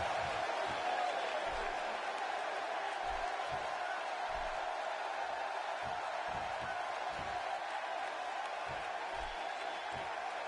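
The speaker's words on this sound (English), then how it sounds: "by the sound of this crowd, I think they're getting what they wanted" Arena crowd at a WWE wrestling video game event, a constant murmuring roar in the background with periodic low thumps from the ring.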